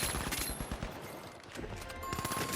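Rapid automatic fire from the M11 gun in the video game The Finals, a dense continuous burst of loud, close shots with a brief lull partway through.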